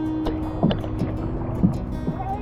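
Paddles dip and pull as a rented kayak glides across the Big Lagoon at El Nido in the Philippines, soft rhythmic splashes and strokes under light wind.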